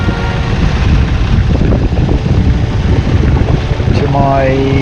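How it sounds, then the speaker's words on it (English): A sailboat running with both sails up and its motor going at about six knots in a ten-knot southeast breeze, loud rushing wind and water noise with an engine drone beneath, while someone talks. "So I've got both sails up, motor going, 6 knots, just a nice 10 knot southeast breeze."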